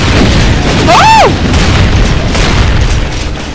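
Explosive barrels blow up in the video game Brutal Doom, a loud booming blast followed by a rumbling tail and sweeping tonal effects.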